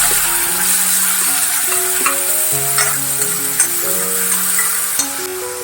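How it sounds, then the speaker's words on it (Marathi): Chopped onion with mustard seeds frying in a pan for a sprouted moth bean dish, a steady bright sizzle with occasional scrapes of a stirring spoon, close and continuous without any talk. "दोन मिनिटं कांदा परतायचा आहे।"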